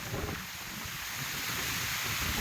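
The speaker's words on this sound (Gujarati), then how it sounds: "અને પવન એ છે જોરદાર" Strong wind blows outdoors after rain in a Gujarat village, a loud, continuous broadband roar that buffets the microphone for the whole span.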